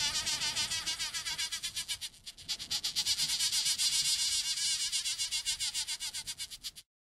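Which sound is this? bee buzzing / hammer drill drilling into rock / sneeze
bee buzzing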